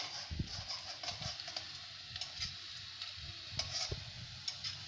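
Chopped onions sizzle in oil in a pan for Indian cauliflower gujiya curry, a soft continuous frying hiss broken by scraping stirs and light clinks of a spoon, with no talk over it.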